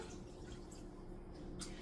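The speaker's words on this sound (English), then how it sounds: "now I'm going to add it into the pot" Water from a bowl, about two cups, is poured into a cooking pot while pelau cooks: a faint, steady low splashing and trickling, quiet and without talk.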